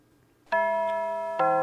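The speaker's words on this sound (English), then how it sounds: "Ding dong, ding dong." A school bell chime from the visual novel Amber Quartz rings out in two clear, sustained tones, the second striking about a second after the first, loud and bright against silence.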